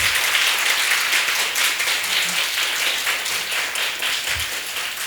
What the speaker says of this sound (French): Applaudissez très fort pour vous-même.